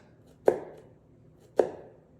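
Two separate knife strokes slicing garlic on a cutting board, each a crisp, close tap about a second apart, with quiet between them.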